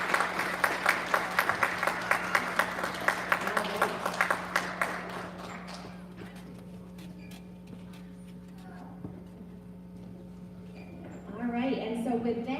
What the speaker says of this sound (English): Big round of applause for our responsible and safe bus riders.